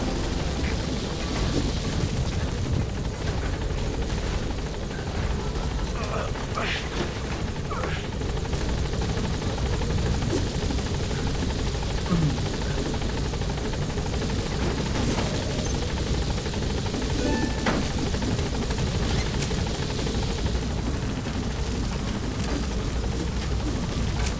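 Helicopter rotor in the Metal Gear Solid V game, a steady continuous drone and whir that holds at an even loudness throughout, with occasional faint clicks and no voices over it.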